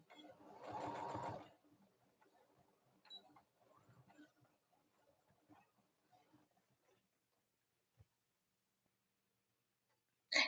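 A sewing machine stitches in a quick, brief burst near the start, followed by faint scattered ticks and handling sounds in an otherwise quiet room.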